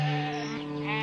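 A cartoon flock of goats lets out a loud, close, wavering bleat that holds steady for about a second, with no other sounds around it.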